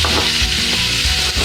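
Venison sizzles hard in melted fat in a pan at a camp cooking setup, a loud, dense, steady frying hiss filling the moment up close with no one talking.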